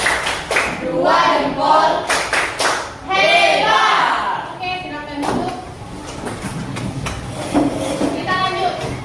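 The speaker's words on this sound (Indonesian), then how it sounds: "Tepuk jempol." Schoolchildren in a classroom clap their thumbs together in quick rhythmic bursts while an adult and the children talk over and between the claps.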